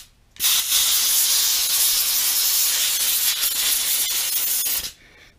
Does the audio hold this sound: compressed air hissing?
yes